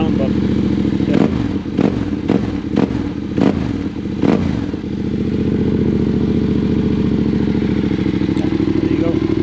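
A Yamaha Tenere 700 rally-build motorcycle's exhaust idles steadily and close by, with a series of sharp revs or clattering bursts in the first half before settling into an even running drone.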